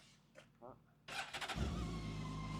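A BMW K1600GTL motorcycle with 37,000 km on it starts up close by. The engine catches with a burst of cranking pulses, then settles into a steady idle. A voice is heard briefly before it starts.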